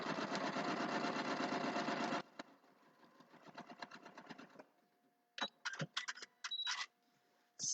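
A sewing machine stitches fabric in a loud, fast, continuous whir for about two seconds, then softer rhythmic clicks and short bursts of running, alone with no voice.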